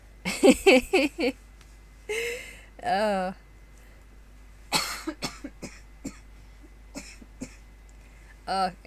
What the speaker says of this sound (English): Excuse me with the coughing.